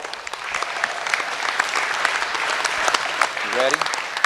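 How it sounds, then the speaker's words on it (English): Audience at the 2016 North American International Livestock Show sheep show applauding the exhibitors, steady clapping throughout with a voice briefly heard near the end. "let's go ahead and give these exhibitors a big round of applause."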